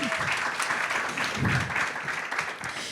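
A small audience at a French podcast recording claps for guests, with uneven, moderately loud applause and a voice speaking briefly underneath.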